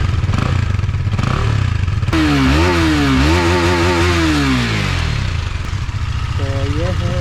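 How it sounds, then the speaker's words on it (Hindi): A KTM Duke 250 motorcycle engine runs close by, a steady loud single-cylinder rumble with rising and falling revs in the middle and a brief blip near the end. "ये रही हमारी बाइक स्टार्ट हो गई"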